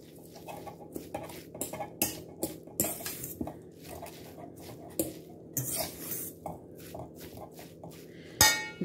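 A spoon stirs broccoli fritter batter in a bowl, producing a steady series of close clinks and scrapes against the bowl over a low background hum, with no voices.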